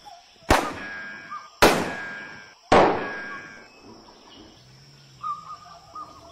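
Three sharp gunshots crack in a film shootout, each a loud close blast with a ringing metallic tail, spaced about a second apart, followed by faint scattered sounds.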